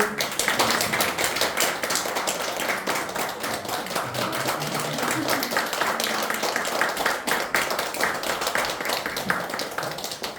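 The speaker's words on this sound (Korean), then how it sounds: "박수 좀 쳐주세요." Sustained, dense clapping from a church congregation at a deaconess ordination service, continuous and even for about ten seconds, with brisk individual claps standing out.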